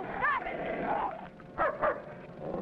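A dog barks several times in short, sharp yelps with whimpering tones between them, fairly close, amid a noisy outdoor scene in an old western TV episode.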